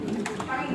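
Blue bar pigeon hen cooing close by, a short soft throaty burble mixed with handling noise and a voice.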